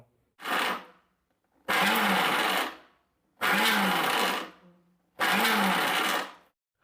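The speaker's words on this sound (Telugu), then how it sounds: "ఇప్పుడు పల్స్ ఇచ్చుకుంటూ గ్రైండ్ చేసుకుందాం" A kitchen mixer grinder pulsing garlic with rock salt, cumin and chili powder: four loud bursts of motor whine, each about a second long, separated by short silences.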